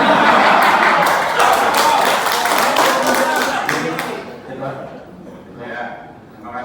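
A meeting room of people clapping in a loud burst of applause mixed with chatter and chuckles, thinning out after a few seconds as talk takes over.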